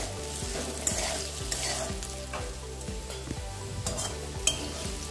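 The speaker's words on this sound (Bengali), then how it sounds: "নেড়ে চেড়ে আলুগুলোকে ভালো করে ভেজে নেব" Potato pieces with salt and turmeric fry in oil in a kadai, a close crackling sizzle under repeated rhythmic scrapes of a spoon stirring against the pan.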